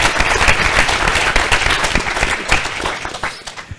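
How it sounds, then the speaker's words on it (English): An audience at a tech meetup on AI and genomics breaks into a round of applause, a busy crackle of many hands clapping that stays fairly full and then gradually thins out toward the end. "let's give a big round of applause to Raeka"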